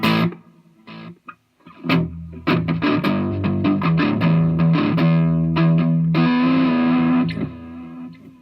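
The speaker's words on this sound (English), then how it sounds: "a nice little thing through these distortions, so I can get a very amp sounding distortion" An electric guitar played through heavy distortion pedals, with gritty sustained chords and picked notes ringing out loudly on their own.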